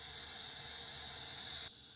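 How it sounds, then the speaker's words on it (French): Cicadas singing in a summer soundscape played in a museum room, a steady, dense high-pitched hiss-like drone that holds constant, then drops away abruptly near the end. "Ça, c'est le chant des cigales."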